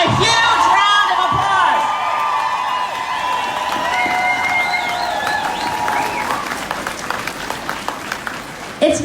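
A large crowd at a women's march rally in Victoria, BC claps hard and cheers with whoops, the sustained applause tapering gradually toward the end.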